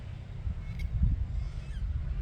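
A goose-like honk sounds once over a low, steady outdoor rumble, with faint bird calls in the background.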